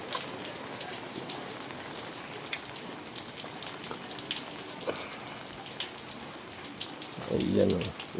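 Rain pours steadily outdoors near farmland, a constant hiss with sharper nearby drops and a louder gush of water toward the end.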